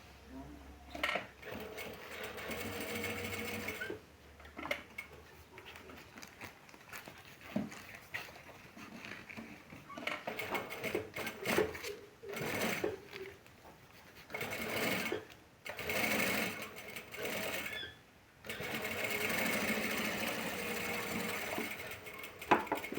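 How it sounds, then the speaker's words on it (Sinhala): A sewing machine stitches fabric along piped seams of a handmade school bag, running in short and long bursts separated by brief pauses, close and clear, with occasional talking in between. "මේ ඉරි දෙක එක උඩ එක තියලා වටේට මහගෙන යන්න"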